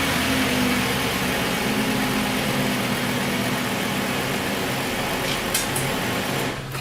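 A 2011 Ford Edge engine idles smoothly after coil trouble and a misfire, a steady even hum with a low rumble and faint tonal whine, constant throughout, with a couple of brief clicks near the end.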